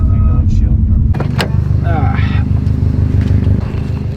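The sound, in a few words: wrecked Subaru STi driving slowly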